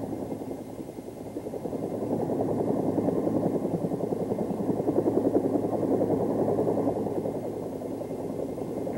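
A Bell AH-1 helicopter's rotor and engine drone steadily, a dense pulsing beat of blades over a low turbine hum, fairly close and continuous with no voices.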